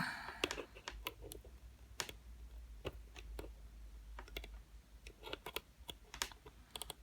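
Wire cut with snips while building a coil on an APEX RDA vape atomizer: a run of faint, crisp clicks and snaps scattered irregularly over a quiet low hum, with no talking.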